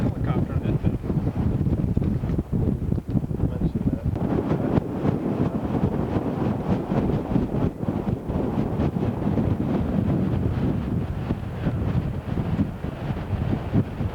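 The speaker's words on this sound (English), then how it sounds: "What do you think it's gusting up to now, Randy?" Strong gusting wind buffets the microphone out on the water near Put-in-Bay, a steady loud roar with surging gusts throughout, with faint voices in the background.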